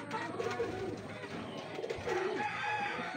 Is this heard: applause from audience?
no